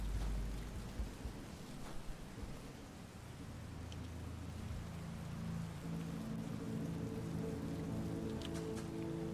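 Rain and thunder in a video game: a steady wash of rainfall with low rolling thunder rumbles early on, continuing evenly and fairly quietly throughout.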